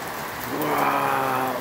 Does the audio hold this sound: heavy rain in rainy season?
yes